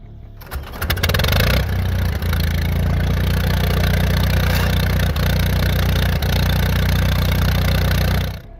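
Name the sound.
vintage tractor engine starting and running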